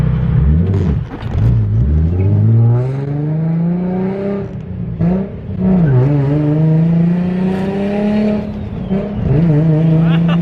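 A 600 hp turbocharged Nissan 350Z accelerates hard, its engine note sweeping upward in loud, close pulls, briefly dropping between shifts before climbing again.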